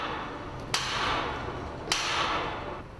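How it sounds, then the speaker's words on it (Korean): Hammer blows on steel during the dismantling of a tower crane on a building, with two sharp metallic strikes about a second apart over loud, steady wind-like construction noise. "눈앞의 망치질에 최선을 다할 수밖에."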